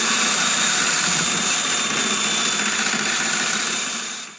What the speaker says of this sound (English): we're gonna go in with a drill and clean off all that gunk from that shaft.